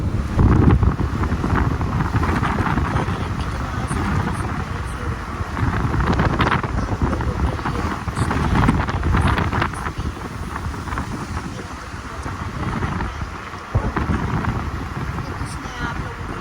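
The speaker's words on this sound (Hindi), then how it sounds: "चल पड़ा है तूफान।" Strong wind rushes and buffets the microphone outdoors in a rural hometown as a storm picks up, a steady loud roar throughout with faint voices underneath.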